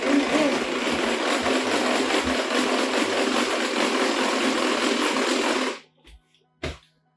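An electric hand mixer whips egg whites at its lowest speed, a loud steady motor whir close by for about six seconds before cutting off, followed by a couple of brief knocks.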